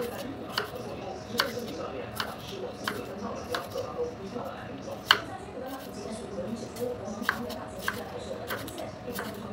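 A knife chops vegetables and soaked mushrooms on a board, giving irregular sharp taps close by against low kitchen background noise.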